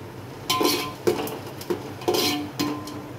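Spoon scraping and knocking in a pan while stirring uggani mixture, several repeated strokes in an uneven rhythm, close and clear.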